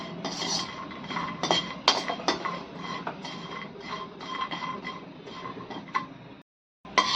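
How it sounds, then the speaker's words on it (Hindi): Walnuts dry roasting in a pan rattle and clatter steadily as they are tossed and stirred, with sharp scraping knocks throughout and a brief silent break near the end. "अब हम इसमें थोड़े से अखरोट रोस्ट कर लेते हैं। इनको ड्राई रोस्ट ही कर लेंगे।"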